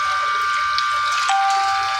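Treated clear water from a sewage treatment plant pours steadily into a container, a continuous splashing rush heard close up with a faint tonal hum underneath.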